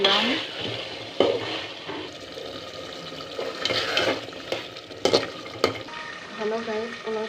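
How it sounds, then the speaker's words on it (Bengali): Potatoes stirred into cooked beef in a pot for biryani, with scraping spoon strokes, clinks against the pan and a soft sizzle, heard up close with no one speaking. "আলুগুলো মাংসের সাথে মিশিয়ে নিলাম।"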